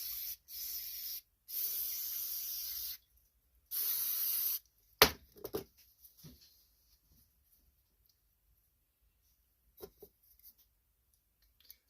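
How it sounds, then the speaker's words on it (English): Three hissing bursts of cleaner sprayed onto a Polaris 500 Sportsman ATV carburetor slide, two long and one shorter, close by, followed by scattered clinks and small handling noises in a quiet room. "So we're going to spray that off."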